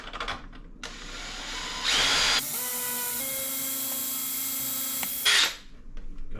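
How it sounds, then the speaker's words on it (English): A power drill bores through a wooden cabinet door for a handle: the motor winds up, whines steadily at high pitch while cutting for several seconds, then surges briefly and stops, with faint handling noise before and after. "I'm going to go ahead and drill through here."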